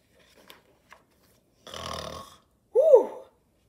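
A voice imitates a snore during a children's storytime, first a drawn-out raspy inhale then a short, louder rising-and-falling snort, close and clear after a couple of faint taps.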